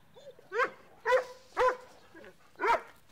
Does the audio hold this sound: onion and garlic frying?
no